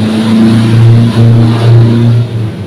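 A vehicle engine drones loudly and close, holding a low steady hum with slight rises and falls in pitch as it idles and revs, with no talk over it.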